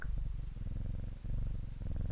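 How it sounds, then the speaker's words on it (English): A cat purrs when petted in the puzzle game Strange Horticulture, a steady low rumbling purr in close, even cycles with a brief dip midway, heard alone without speech. "Oh, that's a nice purring noise."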